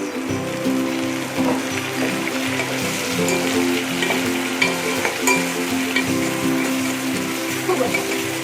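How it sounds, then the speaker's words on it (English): Chopped onion and ginger garlic paste sizzle and fry in a pan for a veg kurma, with a steady close crackle and occasional stirring scrapes, with no voice. "Saute the onions thoroughly until it becomes transparent."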